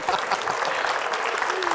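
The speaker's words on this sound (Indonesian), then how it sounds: "kasih tepuk tangan dulu" Audience applause at an Indonesian motivational talk, a steady dense patter of many hands clapping close by, filling the short moment without pause.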